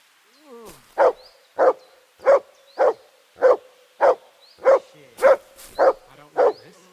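A dog barking in the medieval role-playing game Kingdom Come: Deliverance 2: about ten evenly spaced, loud single barks in a steady rhythm, close by, with a brief whine at the start.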